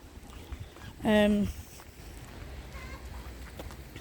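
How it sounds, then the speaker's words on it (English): A chicken's single short, loud cluck rings out somewhere nearby on an otherwise quiet outdoor walk, with wind and soft background noise around it. "Oh, I'm hearing a chicken somewhere."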